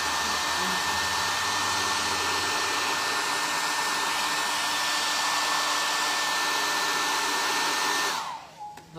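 A hair dryer blows continuously at close range to dry a glued paper napkin on an MDF board, a loud steady whoosh with a thin whine that stops sharply at the end.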